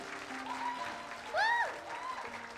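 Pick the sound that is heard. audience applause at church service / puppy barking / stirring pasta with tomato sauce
audience applause at church service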